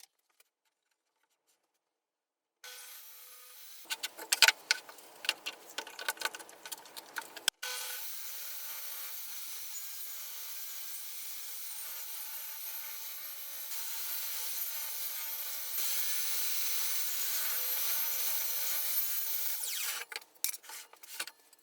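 A hand saw cuts through wooden corner pieces for a firewood box, first in short irregular rasping strokes, then in a long steady sawing run of about twelve seconds, close and moderately loud.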